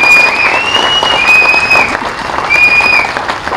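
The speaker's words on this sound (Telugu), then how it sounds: "మీ అందరూ చప్పట్ల ద్వారా హర్షధ్వానాలు తెలియజేయాలని చెప్పి కోరుకుంటూ" Applause from an audience at a public gathering, steady dense clapping sustained throughout at fairly close range, with a few faint whistles above it.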